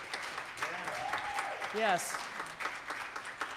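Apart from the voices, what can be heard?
congregation applause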